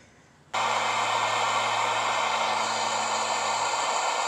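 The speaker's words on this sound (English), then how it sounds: "So I'm just going to go through, heat them up one by one." A torch heats a seized bolt on the rear wheel bearing of a 2007-2012 Mazda CX-7, roaring on abruptly and holding a loud, steady, close hiss to the end.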